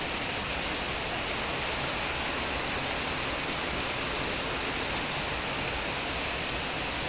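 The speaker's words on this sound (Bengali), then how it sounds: "আজ আপনাদেরকে একটু শব্দটা শোনাই বৃষ্টির।" Heavy rain pours down in a dense, steady roar of broadband noise with no pauses or talking, close and continuous throughout.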